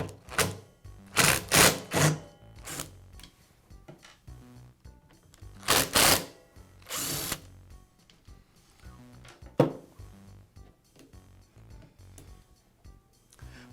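A cord clamp is removed from a Makita miter saw during a power cord repair, with close, sharp plastic-and-metal clicks and clunks in short clusters, separated by quiet handling noise and a few isolated knocks.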